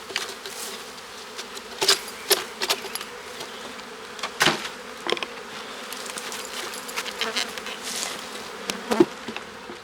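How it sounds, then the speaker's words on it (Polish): Many honeybees buzz in a steady low drone around an opened Langstroth hive, with individual bees zipping loudly past close by at irregular moments. "pszczoły nie są zadowolone."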